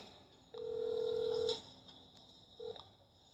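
A mobile phone dialing out, one long steady keypad tone and a second short tone, clean and close against quiet background.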